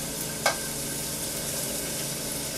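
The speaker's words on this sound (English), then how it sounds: "we're going to want to sear the ribs on each side" Beef short ribs searing in a hot pan, a broad, even hiss with one brief clink early on, steady and close with no speech.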